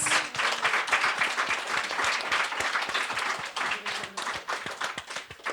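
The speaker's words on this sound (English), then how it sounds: "let's have another round of applause for our brilliant readers" An audience at a literary reading applauds its readers, with dense, steady clapping from many hands filling the room for several seconds.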